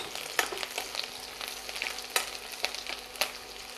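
Cumin, green chillies and ginger frying in a pan, a soft crackling sizzle with scattered pops and stirring clicks, fairly quiet and alone.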